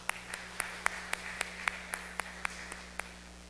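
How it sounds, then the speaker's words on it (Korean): Rhythmic, evenly spaced hand claps from a church congregation at a Wednesday prayer service, about a dozen sharp beats in steady tempo over a low hum, no voices. "받으신 하나님께 영광의 박수 돌리겠습니다."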